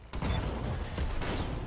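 Mech weapons fire in the Battletech game, a brief cluster of heavy blasts and rumbling impacts over a couple of seconds, fairly loud and dense, with faint mechanical whines mixed in.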